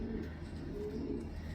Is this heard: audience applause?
no